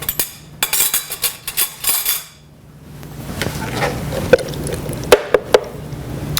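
A metal spoon clinks repeatedly against a dish while gnocchi is served, with a quick run of bright taps, a short pause, then a few more scattered clinks over faint background noise.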